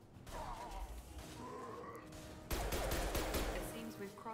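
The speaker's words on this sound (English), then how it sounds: "I'm gonna hit him with a big ol' explodey gun." In the video game Mass Effect 2, a big explosive gun fires amid a busy combat soundscape. Crackling gunfire rolls on continuously and swells into a louder, heavier barrage midway through.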